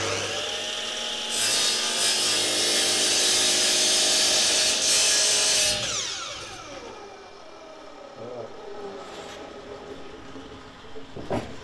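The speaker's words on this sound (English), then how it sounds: "Cut all the other pieces in a similar manner on the saw." Wooden pieces for a bat box cut on a power saw, a loud steady whining cut for several seconds that winds down as the blade slows, followed by quieter workshop clatter and handling noises.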